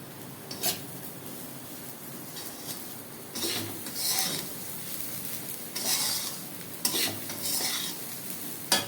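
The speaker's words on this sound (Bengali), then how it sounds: "আর একটু নাড়াচাড়া করবো।" A ladle stirs and scrapes khichuri in a cooking pot, giving intermittent close scraping strokes over a low simmering background, with no talk.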